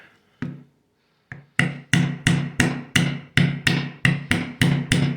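Hammer taps on a Smith & Wesson M&P Shield pistol while an Apex trigger shoe is fitted: two isolated strikes, then a steady run of about ten sharp, evenly spaced blows, close and loud with no talk.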